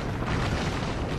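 A video-game explosion in a battle royale match rumbles as a dense, loud, sustained low boom filling the whole moment without pause.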